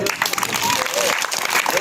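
Villagers watching a street performer's show clap loudly on cue, a short burst of brisk applause mixed with voices in the crowd.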